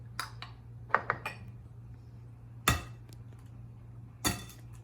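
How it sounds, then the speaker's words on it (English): Eggs cracked one at a time for gluten-free coconut flour chocolate cupcake batter: a few sharp, separate taps and clicks of shell against a hard bowl edge, close by, with a steady low hum underneath and no talking. "First we have 4 eggs, so let's crack it."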